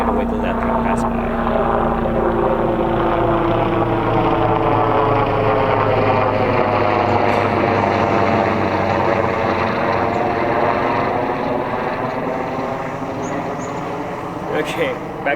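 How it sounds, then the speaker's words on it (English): A helicopter drones steadily far off in an outdoor setting, its rotor thump and engine hum a continuous, slowly shifting rumble that stays constant throughout. "There's a chopper somewhere. You hear that?"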